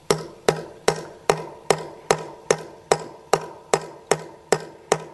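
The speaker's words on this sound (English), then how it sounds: "use your hammer" A hammer taps a metal anchor, capped with a nut, down into a drilled bolt hole for a G-Force installation: about thirteen sharp, evenly spaced strikes, close and loud, each ringing briefly, with no talking.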